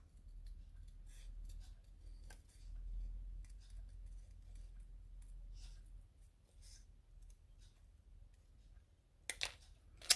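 Scissors fussy cutting around paper letters for a greeting card, faint, quiet snips and paper rustles scattered through a near-silent stretch, with a couple of sharper clicks near the end.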